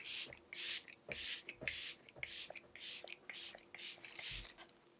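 Alcohol-free Hard Candy makeup setting spray with a 16-hour hold, misted in a rapid run of about nine short, even hissing bursts, each a crisp, close puff of fine spray separated by brief pauses.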